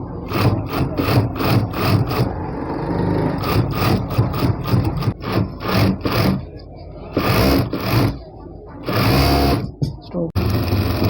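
A sewing machine stitches the collar of a men's suit in bursts of rapid mechanical hammering, stopping and restarting several times, loud and close, with a voice briefly talking between runs.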